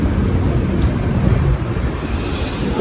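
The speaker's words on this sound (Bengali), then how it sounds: "ট্রেন ছেড়ে দিল অন টাইম" The Durgiana Express, bound for Amritsar, pulls out of a Kolkata station with a loud, continuous rumble of rolling wagons, wheel noise and a high squeal that rises partway through.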